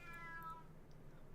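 A single short cat meow, a game sound effect from Vampire the Masquerade Bloodlines, heard alone and fairly faint.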